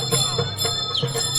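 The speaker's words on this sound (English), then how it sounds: "A town crier outside the tent rings his bell" A town crier rings his hand bell outside a festival tent, a run of rapid clanging strokes with a lingering metallic ring, fairly loud and close.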